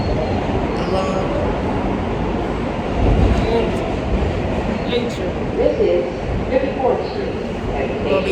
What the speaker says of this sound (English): we're on the train home